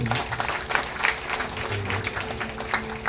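Audience applause fills a church worship gathering in Ranchi, Jharkhand, a steady dense clatter of many clapping hands with a low sustained tone and some murmuring underneath throughout.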